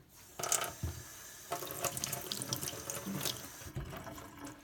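Water pours steadily from a faucet into a sink to fill a sugar cone mold, a continuous splashing rush with a few clinks of something being handled.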